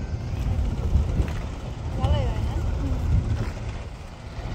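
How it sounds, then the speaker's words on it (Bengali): A boat out on the water gives a steady low rumble with wind buffeting the microphone, while faint voices carry in the background throughout. "সবাই নৌকা নিয়ে ঘুরে"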